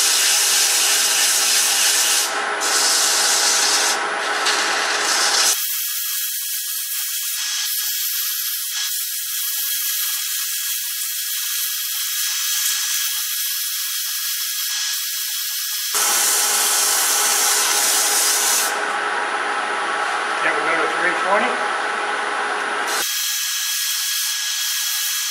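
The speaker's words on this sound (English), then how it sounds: "I like to sand fast." A wooden tool handle being power sanded, turning at about 1,000 RPM: a loud, continuous abrasive hiss close by whose tone shifts between harsher and smoother stretches as the paper is pressed and moved.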